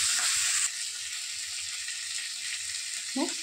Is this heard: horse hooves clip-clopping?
no